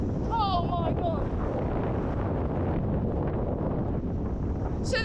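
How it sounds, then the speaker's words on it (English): Strong storm gusts from Storm Isha, at 50 to 70 mph, batter the microphone on a hillside in the Brecon Beacons, a loud continuous roaring buffet with a whistling tone early on. "the wind is very hectic."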